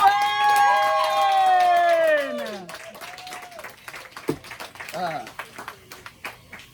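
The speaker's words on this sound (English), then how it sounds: "Give a big round of applause for all the poets that have come up on this mic so far" A drawn-out vocal whoop slides downward, then scattered clapping and cheering rise from the audience at a Wednesday open-mic poetry night at Austin's Coffee in Orlando, with voices mixed into the crowd noise.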